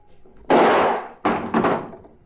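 Gunshots in a French film comedy: one loud, close blast followed by two more in quick succession, each a harsh burst that decays fast, standing alone without speech.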